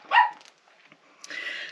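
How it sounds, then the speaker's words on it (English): A pet dog lets out a sharp, loud bark, followed by quieter scuffling and then a second, longer burst of barking close by, with no talking. "I have a dog that likes to bark sometimes"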